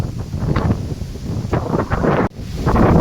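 Strong storm wind in the UK buffeting the microphone outdoors, a continuous loud rumbling gusty roar with brief dips, close and unbroken for the whole stretch.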